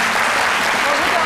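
Studio audience applause on a French-language midday TV talk show, a continuous dense wash of clapping at steady volume with a few voices mixed in.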